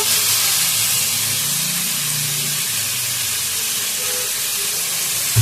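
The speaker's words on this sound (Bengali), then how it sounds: "আমি সাদা তেল দিয়েই করব কুচানো পেঁয়াজ দেবো" Chopped onions frying in hot white oil, a loud, steady broadband sizzle close up, continuous throughout with no talking.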